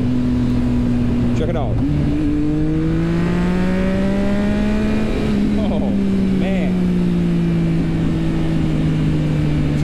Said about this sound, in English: It's got SG Project exhaust on it